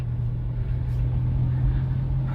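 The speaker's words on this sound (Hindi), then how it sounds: "ये थर्ड गियर में हमारी गाड़ी चल रही है।" Manual-transmission car cruising in third gear, a steady low engine drone and road rumble heard from inside the cabin, even and unbroken with no talk.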